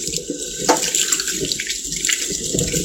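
Tap water runs steadily into a sink while soap is rinsed off a bowling ball, a close, continuous splashing hiss with small irregular spatters and no talk.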